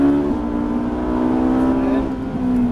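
A Ferrari F458 accelerating on the Le Luc race track, its engine note a steady tone that drops as the gears shift, loud and close throughout.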